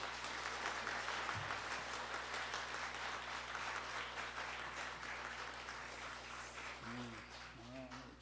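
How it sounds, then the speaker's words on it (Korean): A church congregation applauds with steady, dense clapping that slowly tapers off, a faint voice surfacing near the end. "우리 목사님들께 한번 감사의 박수를 한번 하겠습니다"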